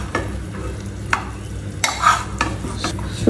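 Two pressed dried fish (chapa shutki) and dried red chilies frying in a pan give a steady sizzle, broken by a few sharp scrapes and taps of a spatula as they are stirred.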